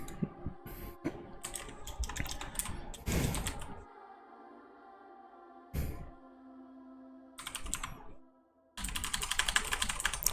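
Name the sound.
typing on a computer keyboard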